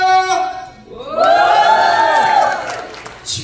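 An audience at a Korean alumni association gathering with invited singers cheers and shouts, loud and close. A sustained roar of many voices follows a brief lone shout, then swells and fades with whoops near the end.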